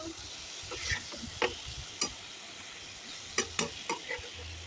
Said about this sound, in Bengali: একই কড়াইয়ে একই তেলের মধ্যে চিকেনগুলো ভেজে নেব